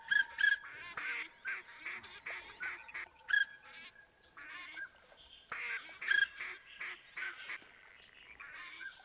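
A flock of waterfowl calls during a duck hunt, with repeated nasal honks and quacks overlapping in rhythmic bursts at moderate distance over open outdoor quiet.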